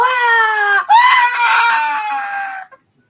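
In the video game Kingdom of Dragons, a dragon queen lets out a loud, piercing screech. The shrill, wavering cry is split by a brief break and then fades out abruptly.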